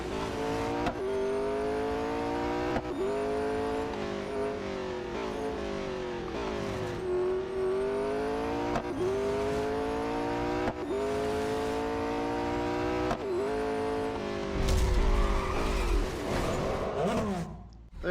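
Race car engine in the Real Racing 3 video game, a steady high whine with rising and falling gear pitches, ending in a loud, rough braking skid near the finish.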